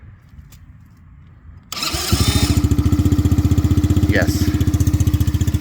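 A 125cc ATV quad engine cranks and catches after a quiet stretch with faint sounds, then settles into a loud, fast, steady idle close by while a voice speaks briefly.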